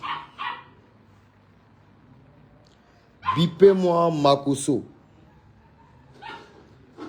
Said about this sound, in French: calme le chien là